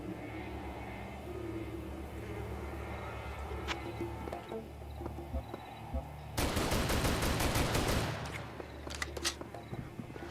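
Automatic gunfire erupts in Serious Sam 3 BFE, a dense rapid burst of shots lasting about two seconds after a stretch of engine-like hum, followed by a few scattered single shots.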